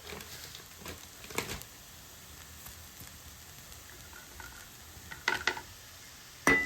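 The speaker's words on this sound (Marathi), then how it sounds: "व्यवस्थित असं मिक्स करून घ्यायचं." A spoon stirs kanda poha with sugar and salt in a pan, faint soft scraping with a few brief louder clinks of the spoon against the vessel.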